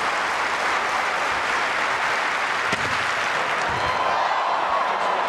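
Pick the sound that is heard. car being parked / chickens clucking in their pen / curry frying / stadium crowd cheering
stadium crowd cheering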